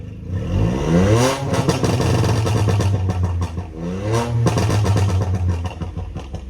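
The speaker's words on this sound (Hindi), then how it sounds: "मैं अगर आपको एक बार इसका रेव नोट सुना दूँ ना भाई, कि रेव नोट क्या है इस गाड़ी का, तो कुछ ऐसा है" A VW Polo GT TSI 1.0 with a stage 2 pop-and-bang remap revs hard twice, each blip climbing sharply and dropping back with crackling burble, loud and close.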